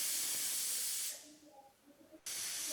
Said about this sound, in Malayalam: ഇനി കുക്കർ അടച്ചിട്ട് നമ്മുടെ ചെറിയ ബർണറുള്ള അടുപ്പിൽ ഫുൾ ഫ്ലെയിമിലൊരു 2 വിസിൽ വന്നോട്ടെ.